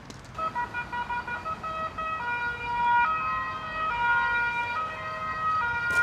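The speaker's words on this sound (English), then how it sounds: "These sirens are only making it more eerie." A wailing emergency siren rises and falls continuously in Budapest, fairly loud and steady, with faint road noise beneath.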